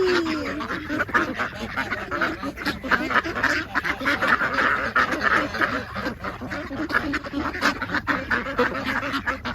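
Ducks quack repeatedly in a lively, overlapping chorus close by at a park in Mexico, with a few honking calls mixed in and faint voices in the background.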